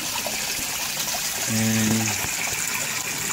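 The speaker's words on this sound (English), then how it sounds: "there will be water flowing." Water runs steadily through a bypass pipe in an aquaponics system, a constant rushing hiss with a brief tonal hum partway through; a voice says a single word.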